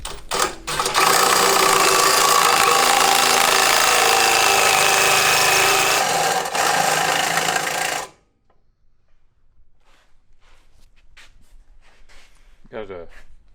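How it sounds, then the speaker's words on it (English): Power drill boring into a cheap pocket bike's frame, a loud continuous grinding whir for about eight seconds that stops abruptly, followed by near silence with faint handling noises. "I'm just going to try to hold her steady as best I can and drill."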